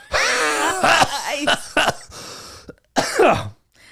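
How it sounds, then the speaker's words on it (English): A person coughs and clears their throat in several harsh, raspy bursts, close to the microphone, with strained vocal groans between bouts and a short pause before a final hacking fit. "That cough. Jeez."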